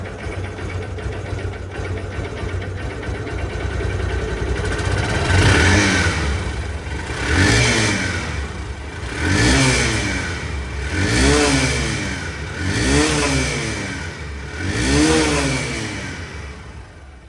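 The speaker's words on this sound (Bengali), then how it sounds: "গাড়ি কিন্তু স্টার্টে আছে" A used Honda SP Shine motorcycle engine idles, then is revved in about six repeated rising-and-falling pulls every two seconds, loud and close with no talk.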